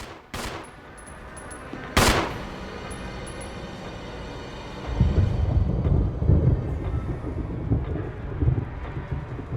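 Gunfire in the survival-horror game Resident Evil: two sharp, loud shots about two seconds apart, each ringing out with a long decay, followed by a low rumbling background.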